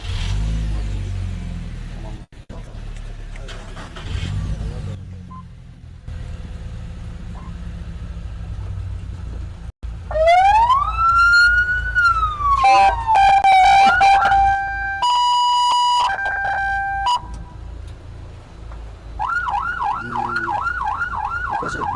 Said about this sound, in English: Some noise with the ambulances.